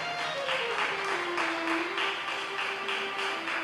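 A church congregation clapping together in steady rhythmic beats under sustained singing or chanting, moderately loud and continuous.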